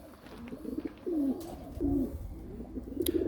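A pigeon coos close by, several low rolling coos in a loose sequence over faint background noise.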